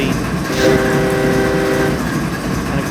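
A BNSF ES44DC diesel locomotive on the Marias Pass route in Train Simulator 2022 sounds a long, loud horn chord for about a second and a half over a steady engine rumble.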